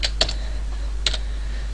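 Computer keyboard keys are tapped a few times in short clustered clicks, close and clear over a low steady hum, with no talking.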